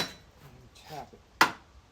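A single sharp hammer tap rings out on a Toyota Sienna control arm bushing, preceded by quiet shuffling and faint handling noises and followed by a brief click right at the end.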